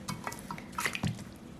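A frozen gefilte fish loaf slips into a pan of water with a soft splash and light clinks of a pot, brief and close, with no voices.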